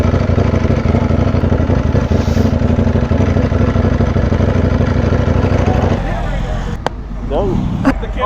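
A Ducati Panigale V4R motorcycle engine idles close by, a loud, steady, throbbing rumble that continues throughout, with the sound shifting slightly near the end.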